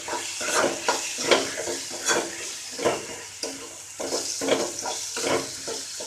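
Tomato and onion sautéing with salt in a pan, a steady close sizzle broken by repeated scraping and stirring strokes of a utensil, no voices.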